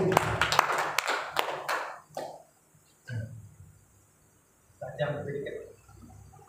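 An audience at a corporate gathering in Madiun, Indonesia, breaks into a short burst of clapping that fades within about two seconds, followed by someone talking.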